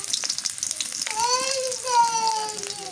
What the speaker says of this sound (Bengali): পেঁয়াজ কুচি দিয়ে দিই